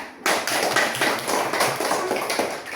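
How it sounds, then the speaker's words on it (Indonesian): A class of students in an Indonesian school science lesson claps for group 3, a dense burst of many hands applauding at once that starts sharply and keeps a steady, busy patter to the end with no talk. "Tepuk tangan untuk kelompok 3"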